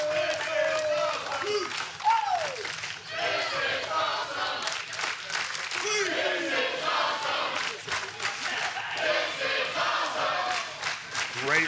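A wrestling crowd at the old Asylum in Nashville, the former home of Impact Wrestling, roars steadily throughout, with shouts, whistles and scattered clapping; an announcer's voice runs beneath the noise.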